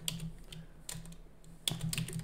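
Light keystrokes on a computer keyboard, a few quiet scattered taps followed by a short quicker burst, faint and close with no talk.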